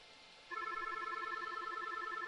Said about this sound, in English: The call rings their phone, they pick it back up